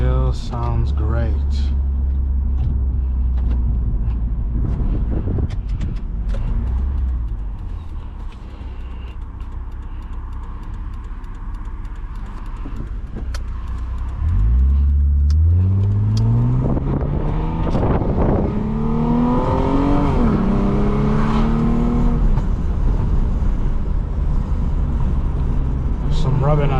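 A crash-damaged Lexus IS250 idles with a low rumble, then revs upward in a rising, climbing engine note before settling, heard close with wind noise across the microphone.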